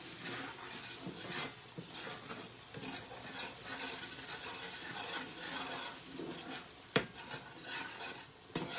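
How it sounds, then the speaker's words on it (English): Milk and broth are stirred into a thickener for homemade mac and cheese, soft liquid swishing and scraping in a pot, quiet and irregular, with one sharp clink of a utensil against the pan. "We can add in some milk and some broth and stir."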